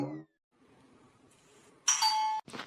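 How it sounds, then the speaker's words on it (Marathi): A house doorbell sounds after a short quiet pause, one bright sustained electronic chime tone followed by a brief second burst, with a voice just before it. "अरे गेल्यावर पण घंटी वाजते का तुमच्यात?"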